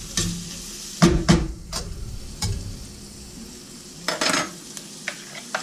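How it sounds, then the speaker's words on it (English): A pot of 1960s-style beef stroganoff gets stirred with a spoon, giving a few sharp scraping and clanking strokes over a soft, low sizzle. "I'll give that a stir."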